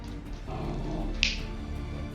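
A house dog lets out one sharp, very brief yap indoors, cutting through a low steady background hum.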